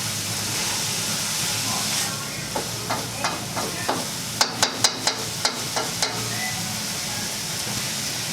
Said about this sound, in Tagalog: So, unahon gisa ang tangkay sang tangkong.